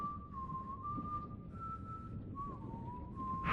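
A character in the Telltale Game of Thrones game whistles a steady, sustained tune in a few long held notes, heard alone over a low ambient background.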